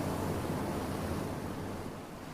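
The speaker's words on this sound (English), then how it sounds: "So you got waves and a fan." A recorded mix of ocean waves and a square box fan plays as a constant, dense wash of broadband noise. It stays loud and even throughout, easing slightly toward the end, with no voices.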